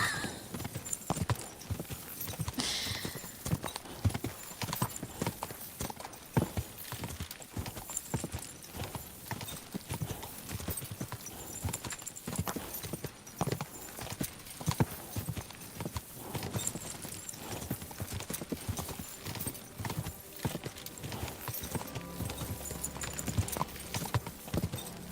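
A horse's hooves clip-clop steadily in Kingdom Come Deliverance 2, a close, continuous rhythmic clatter of hoofbeats lasting throughout, with a brief whinny-like tone near the start.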